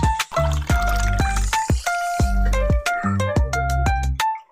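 Water poured into a cooking pot for menudo, heard as a series of sharp pouring splashes with gurgling, rising tones, close and loud, with irregular pauses between the bursts.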